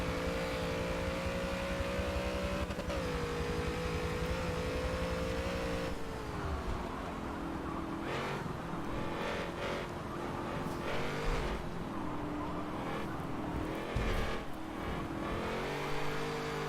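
A Model A Deuce Coupe race car in Forza Motorsport 7 roars continuously, its engine note rising and falling through shifts and braking with steady tire and road noise, loud and close, no voices.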